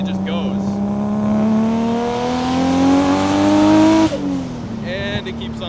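An 800 hp Nissan Skyline R32 GTR engine revs hard under acceleration, its pitch climbing steadily toward 8,000 RPM before a sharp shift drop, loud and close.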